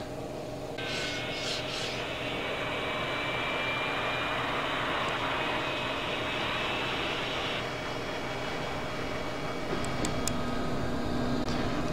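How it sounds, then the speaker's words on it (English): Left aircraft engine starting up in FSX flight simulator, a steady loud whine and roar that holds a high tone for several seconds, then shifts and keeps droning, with brief clicks near the end. "And left engine start."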